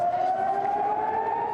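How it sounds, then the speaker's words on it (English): An air raid siren wails in Israel, a steady sustained tone rising slightly in pitch, sounding moderately distant and continuous with no voices. "The air raid sirens forcing people to stay home and take cover in bomb shelters."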